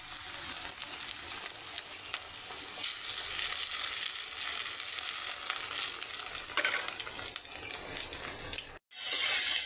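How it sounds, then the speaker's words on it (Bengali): Papaya curry frying in a pan gives off a loud, continuous close sizzle with stirring scrapes, then cuts out abruptly near the end before resuming. "তো এই যে আমি পেঁপের তরকারিটা কষাই নিচ্ছি।"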